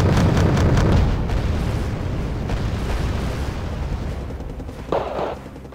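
The warship Pohang shells targets in the Wargame: Red Dragon video game, with heavy booming blasts and rumbling explosions rolling continuously, loudest at the start, then a sharper burst near the end.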